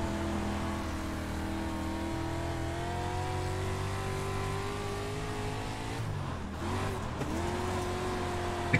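A dirt race car engine in iRacing drones steadily and loud at the Lincoln dirt track, its harmonic whine holding then dipping and rising again as the car drops into a corner.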